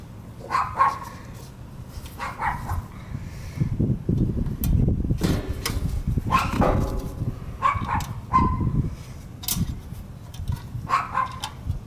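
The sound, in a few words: dogs barking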